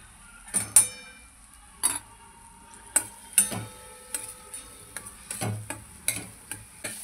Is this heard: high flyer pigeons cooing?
no